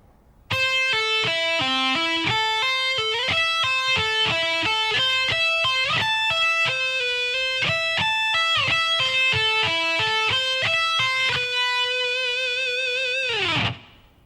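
A clean electric guitar plays a steady run of single notes at a slow, even pace, ending on a note that bends down and fades out.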